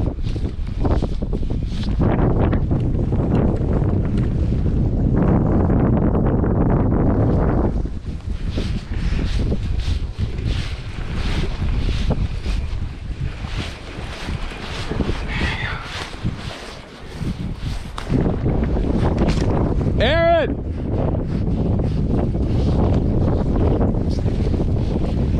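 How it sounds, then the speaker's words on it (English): Strong wind buffets the microphone while kayak fishing on Lake Erie, a loud continuous roar that gusts and briefly dips, with water sounds underneath and a short ringing click near the end. "in this wind."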